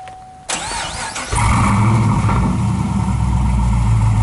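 A 2011 Camaro SS or 2012 Mustang GT V8 cranks briefly, fires up with a loud exhaust blip, then settles into a deep, steady rumbling idle, close and alone.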